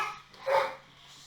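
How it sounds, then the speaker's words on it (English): Pet dogs barking somewhere in the background of a room, one short, muffled bark standing out around the middle of an otherwise quiet stretch. "obviously in the background you can hear my dogs want to be part of this video"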